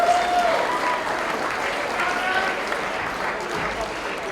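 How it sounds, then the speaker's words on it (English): Audience applause for a high school team at a state esports finals awards ceremony, broad steady clapping filling the whole stretch, with faint voices mixed in. "Another round of applause for Prairie Heights High School."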